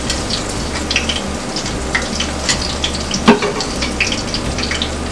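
Pakora fritters frying in hot oil, giving a steady close crackle and sizzle with scattered pops and one sharper knock near the end, no voices.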